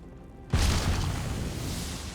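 A cursed chest in Divinity: Original Sin goes off with a sudden deep boom, then a long roaring rumble that slowly fades, with no talk over it.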